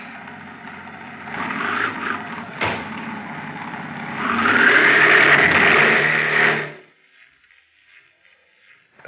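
Radio drama effect of a car pulling away: an engine idles and rumbles, swells into a louder revving roar as it drives off, then cuts out abruptly into near silence.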